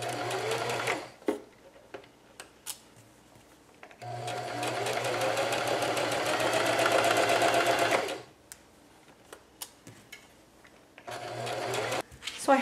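A sewing machine stitches a pillowcase seam in close, rapid whirring bursts: a short run at the start, a long steady run in the middle and another near the end. Quiet pauses with small clicks and fabric handling fall between them.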